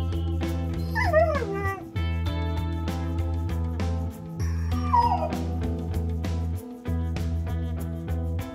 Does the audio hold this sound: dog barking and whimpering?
yes